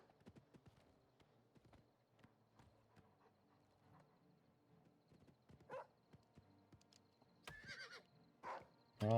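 In-game horse hooves clip-clop in a light rhythm, then a couple of sharp whinnies and a louder neigh break out near the end, the animal being ridden by a player character.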